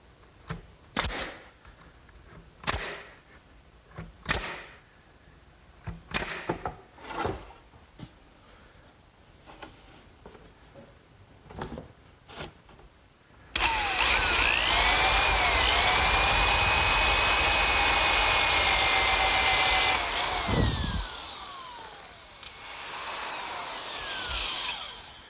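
Pneumatic nail gun in a woodworking shop fastening a kitchen dresser, a series of sharp isolated pops spaced a second or two apart, followed by a loud sustained hiss of compressed air.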